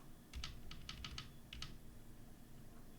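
Keystrokes on a custom Type-B electro-capacitive keyboard, a few quick clusters of crisp, fairly faint clicks followed by a pause and then quiet.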